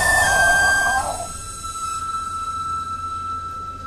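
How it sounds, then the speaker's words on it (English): A songbird whistle from the video game BioShock Infinite sounds as a steady, piercing high tone. A brief noisy burst opens it, then the tone holds alone, fairly loud, and fades slightly over a few seconds. "I love the sound of the songbird whistle."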